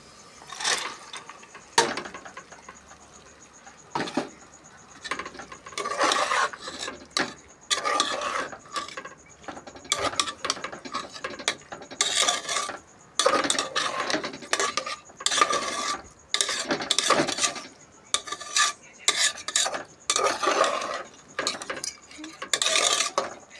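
Chana dal stirred and fried in spice paste, a spoon scraping and clattering against the pan in irregular, repeated bursts, close and fairly loud with short pauses between strokes.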